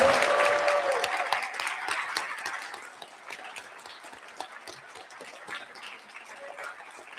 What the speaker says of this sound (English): Can we have one last round of applause for all of our candidates for showing up for us tonight?